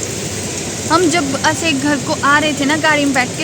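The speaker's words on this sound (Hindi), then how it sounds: "बहुत बारिश हो रही है, बहुत बारिश हो रही है" Heavy rain pours outside a village council building in the hills, a steady broad hiss under a person talking close by.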